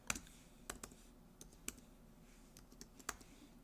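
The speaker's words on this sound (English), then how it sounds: "And now I will type here" Quiet, sparse clicks of a computer keyboard as text is typed into a design program, several scattered keystrokes spread out over a few seconds against a faint background hum, no voices.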